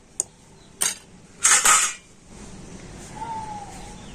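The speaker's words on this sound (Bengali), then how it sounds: "বেকিং সোডা দিয়ে আবারও কিন্তু মিশ্রণটাকে খুব ভালো করে মিশিয়ে নিচ্ছে" A spoon clinks against a bowl a few times, sharp and close, while malpua batter of ripe mango and semolina is mixed with baking soda, then a faint thin whistle-like tone in a quiet room.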